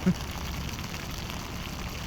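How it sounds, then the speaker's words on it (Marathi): Heavy rain drums steadily on a vehicle during a road journey from Chhatrapati Sambhaji Nagar to Mumbai, a close, dense, even hiss with a brief thump at the start and no speech. "बाप रे पाऊस बघा ना भाई लोक पाऊस बघ"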